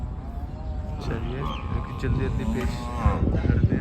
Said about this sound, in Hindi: ये भैंस की आवाज़ है पीछे से